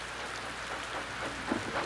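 Steady, soft rainfall hissing continuously in the background, even and unbroken, with no voices.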